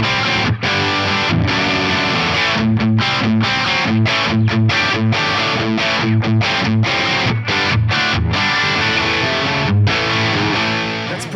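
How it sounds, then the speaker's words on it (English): Electric guitar played through an Axe-Fx III modeling a JCM 800 amp on stock settings, chugging distorted rock rhythm with sharp stops and repeated muted chords, loud and alone. "Pretty slamming rock rhythm tone."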